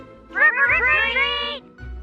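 A house cat lets out one drawn-out, rising then wavering meow, close and clear, with a low background hum behind it.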